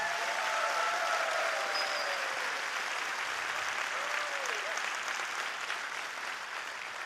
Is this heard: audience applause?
yes